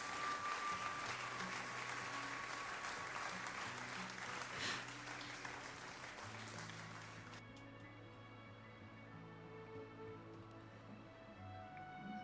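Prolonged applause sound effect playing on a livestream, a dense steady wash of clapping that runs for about twelve seconds at low level, with faint tonal game music beneath.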